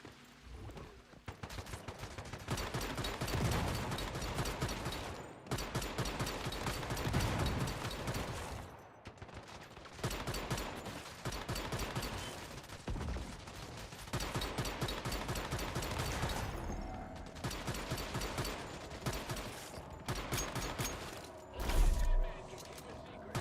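Long bursts of rapid automatic gunfire from the shooter game Once Human during a boss fight, loud and close, with brief pauses between volleys and a voice talking over parts of it.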